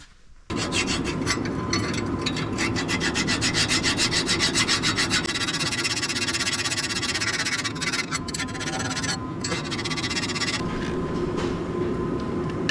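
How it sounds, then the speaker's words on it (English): A hand file rasps steadily across an exhaust manifold during an exhaust-leak repair, loud, close and continuous with quick back-and-forth strokes for the whole stretch and no talking. "I just got in here with the file and got this manifold cleaned off"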